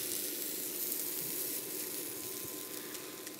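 Crab cakes sizzling steadily in a hot frying pan just after being flipped, a continuous close hiss and crackle of frying that holds level throughout.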